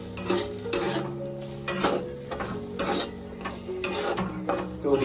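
Mixed lentils fry in ghee in a pot while a spoon stirs them, producing a soft sizzle broken by repeated scraping strokes against the pot at an uneven rhythm.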